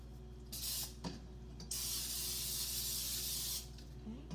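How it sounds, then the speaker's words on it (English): Pam cooking spray sprayed into a pan for pancakes: a short hiss burst, then a longer steady spray lasting a couple of seconds, close and clear against a quiet room. "And I'm going to put Pam in there."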